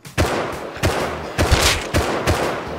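Five sharp gunshots fire one after another in the video game Rust, each a loud, close burst with a short ringing tail, spaced roughly half a second apart with no talking.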